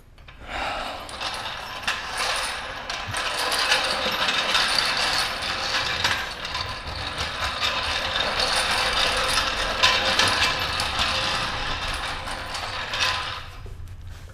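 A 2-ton jack is worked under a Chevy Colorado ZR2 pickup, giving a long run of close metallic ratcheting clicks and clanks that keep going with a busy mechanical rhythm.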